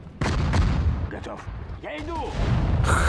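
Artillery and gunfire in the Sudden Strike 4 war strategy game: booming shots and bursts of fire over a continuous battle rumble, loud and dense, with a voice speaking over part of it.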